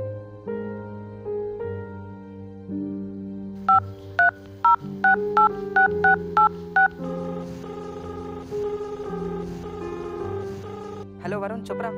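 A telephone number is dialed in a Telugu horror short film: a quick run of about ten evenly spaced keypad tone beeps, clear and prominent over a steady background music score.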